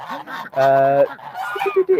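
Geese honk close by, several loud nasal calls in quick succession, one long blaring honk in the middle followed by shorter repeated ones.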